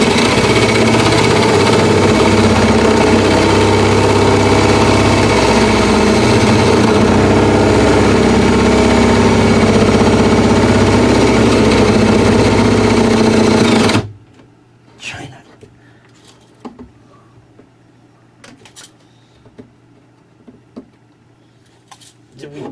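Battery drill boring through a cabinet, a loud steady motor whir that runs continuously for about fourteen seconds, then cuts off, leaving only faint clicks and light handling noise.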